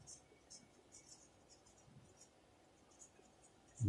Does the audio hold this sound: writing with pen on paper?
yes